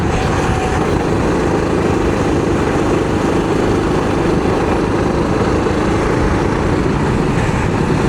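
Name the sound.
kart engine sputtering during practice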